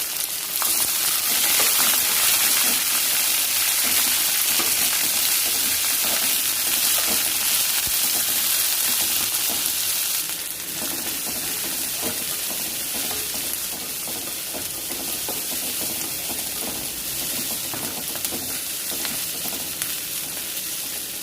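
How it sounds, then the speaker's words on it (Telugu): Onions, green chilies and curry leaves fry in a hot tempering of oil and spices for puffed-rice upma, giving a loud, steady sizzle throughout that eases slightly partway, with occasional stirring and no talk. "పోపుతో కలిపి వేయించుకోవాలి."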